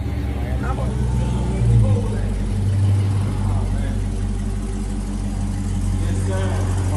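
A 2021 Dodge Charger Hellcat Redeye idling close by with a deep, steady rumble that swells slightly a couple of times, with people talking over it.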